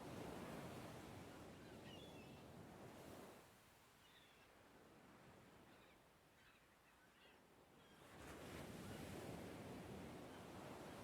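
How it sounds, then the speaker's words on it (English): Ocean waves wash in and out as ambience in the Hooked on You dating sim, a soft continuous surf that swells, eases back, then builds again, with faint bird-like chirps and a breezy hiss. "Are you enjoying the calming sound of the waves?"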